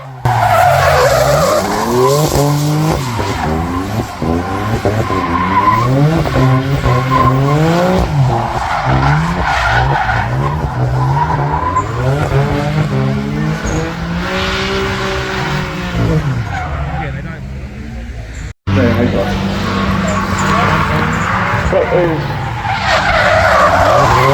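Drift cars slide sideways around the Teesside track at about 80 mph in Drift League Round 4, with long tire squeals and revving engines sweeping past, loud and continuous, briefly cut off near the end.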